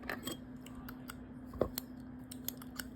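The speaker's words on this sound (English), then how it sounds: "So I'm going to try to use these scissors and cut up ashes." Scissors snip through ashes in a few quiet, scattered clicks and small crunches, close by, against a soft background hum with no talking.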